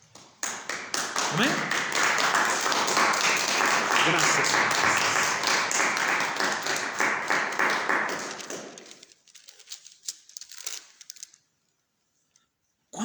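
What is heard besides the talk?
congregation applause in church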